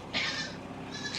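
Goats bleat on a farm crowded with running kids, two clear calls, one near the start and another at the end, over a steady low background with no talking.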